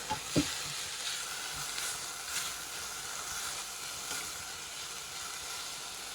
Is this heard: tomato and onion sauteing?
yes